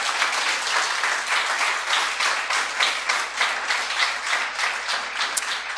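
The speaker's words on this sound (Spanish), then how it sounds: "¿Por qué no le das un aplauso al Señor por eso, de verdad?" An audience breaks into sustained, even applause during a church interview, many hands clapping steadily at close range for several seconds without letting up.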